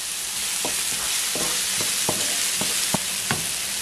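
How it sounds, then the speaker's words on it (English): Chopped onion with a pinch of salt sizzles steadily in hot olive oil, a close, constant frying hiss punctuated by a handful of sharp stirring clicks and scrapes. "we're gonna cook our onion. I will put a little bit of salt in my onion just to make it sweat a little"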